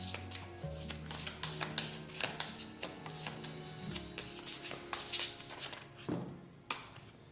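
Close up, a deck of tarot cards is shuffled over and over, giving a run of quick, papery flicks and soft slaps in a steady rhythm, with no voices.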